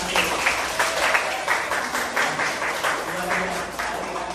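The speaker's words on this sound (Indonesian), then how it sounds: "Kasih aplaus dulu untuk anak-anak kelas 10 akuntansi 1" A classroom of students applauding their grade 10 accounting classmates, a steady patter of many hands clapping close by with a slightly uneven rhythm.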